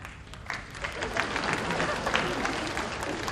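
A live comedy audience in Hong Kong claps in a steady, moderately loud patter that runs the whole time, with some talk mixed in.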